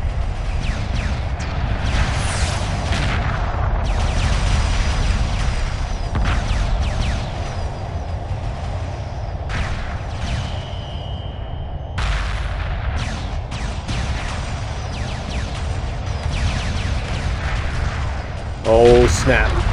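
Space battle weapons fire in the video game Homeworld Remastered: a dense, continuous rumble of booming shots and blasts with rapid clicking bursts, loud throughout, with talk and radio-style chatter over it.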